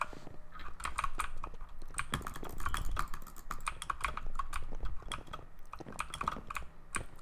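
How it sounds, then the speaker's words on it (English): A mechanical keyboard is typed on in rapid, uneven bursts of close, crisp key clicks that continue without pause and with no talking. "The mechanical keyboard is really nice to use."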